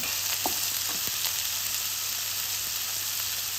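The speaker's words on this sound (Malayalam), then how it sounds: "ഉള്ളി ഇട്ട് കൊടുത്ത് നല്ലോണം വഴറ്റിയെടുക്കാം." Onions and green chilli sautéing in oil for a samosa filling, a steady close sizzle and crackle with occasional soft stirring scrapes, no voices.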